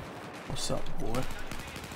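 Rapid automatic gunfire from Battlefield 4 gameplay rattles in a dense burst lasting under a second, then trails off into scattered shots over a busy in-game background, with voices faintly mixed in.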